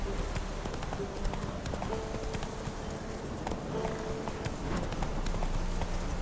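Hooves of Roach, a horse in the video game The Witcher, clip-clop steadily through the whole stretch in an even trotting rhythm, close and moderately loud over a busy background of game ambience.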